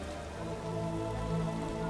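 Rain in the video game The Witcher, a steady, even patter of drops with a faint low background hum, continuous and moderately loud with no voices.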